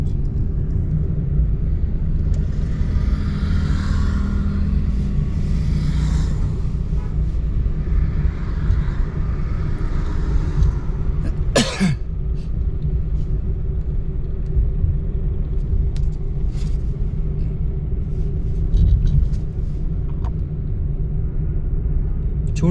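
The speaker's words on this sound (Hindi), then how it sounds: "इतना भी क्या दबा देनी, वाइब्रेट लगी गाड़ी करने, डक डक डक डक लगी होने" A car shudders and judders under brakes pressed too hard, giving a steady loud low rumble throughout with a sharp knock partway through.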